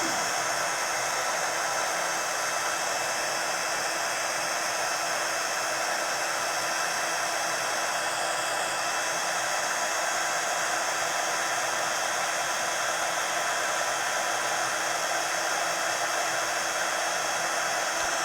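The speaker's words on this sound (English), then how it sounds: "I'm going to make some noise. And I'm going to melt this embossing powder." An electric heat tool runs steadily at close range to melt embossing powder in mixed-media crafting, giving a continuous loud broadband whoosh like a hair dryer with no pauses or talk.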